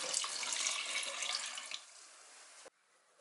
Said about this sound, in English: We need to add 450 millilitres of cider vinegar to that pot